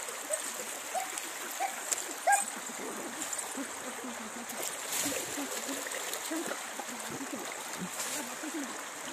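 A hillside stream flows where people are bathing, a soft continuous rush of water heard fairly close, with voices talking over it and a few splashes.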